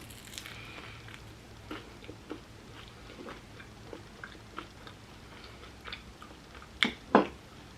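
Someone eats a vegan tuna salad sandwich, and soft, faint chewing and crunching sounds come close to the mic at an irregular pace. Two louder, sharper bites or crunches stand out near the end.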